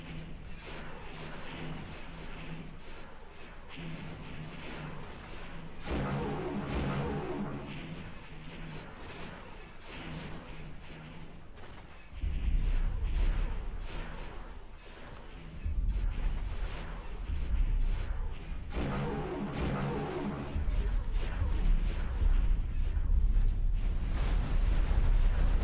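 Frigate prow guns in the space game X4 fire a continuous barrage of heavy, booming artillery blasts that roll and swell over a low rumbling bed, loud and steady without speech.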